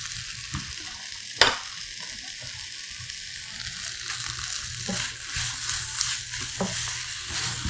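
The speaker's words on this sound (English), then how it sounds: "Now you stir fry it evenly until it's mixed with the seasoning and beef." Spicy Korean pork with seasoning, leek and sugar is stir-fried in a pan, a soft steady sizzle with scraping and stirring clatters, one sharp knock near the start and busier mixing noises later.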